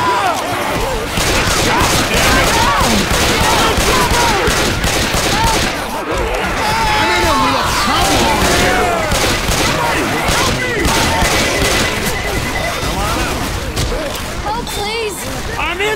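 Dense, loud gunfire from the zombie shooter Left 4 Dead crackles nonstop as survivors fight off a horde, rapid overlapping shots and impacts with character voices shouting over the din.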